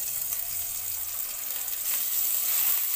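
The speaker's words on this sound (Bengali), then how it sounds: "পেঁয়াজ বাটাটাও একটু ফ্রাই করে নিচ্ছি" Onion paste fries in a pan with a steady, close sizzle and bubbling hiss that continues evenly for a few seconds and grows slightly louder toward the end.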